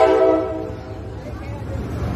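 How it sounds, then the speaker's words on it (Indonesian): A passenger train in Egypt with new Russian-built carriages sounds a brief horn blast at the start, then its steady rumble continues, heard from on board with people talking. "Kita naik kereta 700 km jauh dari kota Kairo"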